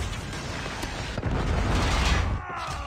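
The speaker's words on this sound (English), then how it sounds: "Predator missile inbound." A Predator missile strike in Call of Duty Mobile gives a short, heavy game explosion: a deep rumbling boom that swells for about a second and then fades, heard over loud, dense battlefield noise.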